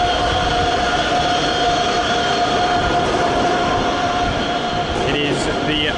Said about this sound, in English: here's a service to Siegen Hauptbahnhof. Double-decker Regio set with the tracks on the front.